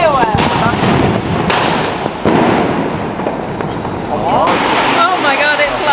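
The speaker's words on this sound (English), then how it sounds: "Look at the fireworks!" Diwali fireworks and firecrackers exploding across Pune, India: loud, dense bangs and crackling bursts come one after another, with people talking over the barrage.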